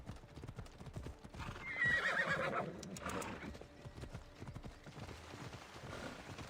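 Horse hooves clip-clop steadily in Assassin's Creed Odyssey, close and fairly loud, with a whinny rising partway through over a light background bed.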